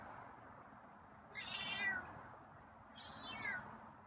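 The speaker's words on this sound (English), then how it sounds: "Meows are kind of weak." A feral cat gives two faint, thin meows spaced a second or so apart, each rising and falling, against quiet outdoor background hiss.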